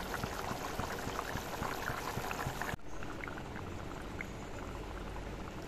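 Thick fish curry with tomato and potato bubbling and boiling steadily in a pan, close and continuous, with a brief dip midway before the bubbling carries on.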